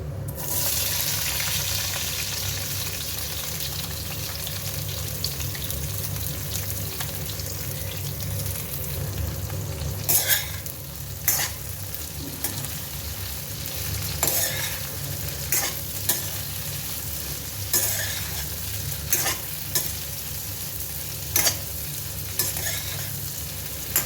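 Sliced ivy gourd stir-fried in a pan with urad dal and a pinch of asafoetida: a steady close sizzle with periodic sharp spatula scrapes and clacks against the pan in the second half, no voices.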